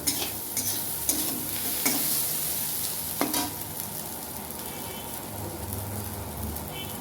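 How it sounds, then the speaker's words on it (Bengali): Vegetables for semolina pulao, cooked soft, are stirred in a frying pan with a steady low sizzle and several sharper scrapes of the spoon, close and moderately loud, with no talking. "সবজিগুলো মোটামুটি গলে গেছে দেখুন নরম হয়ে গেছে এইভাবে আরেকটু নাড়িয়ে নেব"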